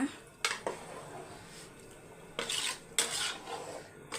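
Rice and water are stirred in a cooking pot, with a few scraping metal clinks and rubbing strokes against the pot, faint and close, set apart by quiet pauses.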